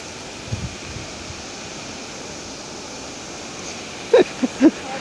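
Water pours over a muddy waterfall site where rain has broken away the soil banks. It makes a steady, broad rushing wash that fills the whole clip, with a few brief close knocks near the end.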